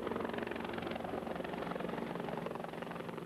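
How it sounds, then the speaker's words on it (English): Helicopters flying overhead at an NYPD police officer's funeral, a steady whirring rotor drone with a fast regular chop, moderately loud and continuous throughout. "Overhead, helicopters whirled in a final salute to his father's heroism."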